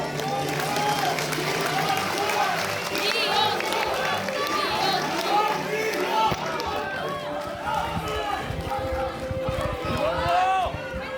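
At a South Korean party launch ceremony, a crowd claps and murmurs as guests return to the stage. The applause is moderate and continuous, with a voice on a loudspeaker talking over it throughout.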